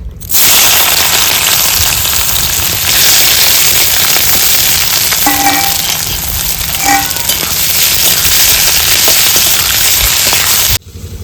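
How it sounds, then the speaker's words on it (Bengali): Chopped onions hit hot oil with dried red chillies, erupting into a loud, dense, continuous sizzle that holds steady for about ten seconds, with a few faint clinks partway through, then cuts off abruptly. "পেঁয়াজ কুচিগুলোকে তেলের মধ্যে দিয়ে দিচ্ছি।"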